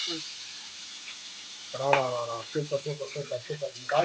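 Ground masala paste hits hot oil with mustard seeds and fenugreek for a sardine curry, setting off a burst of sizzling and frying hiss as it is poured and stirred in, close and steady.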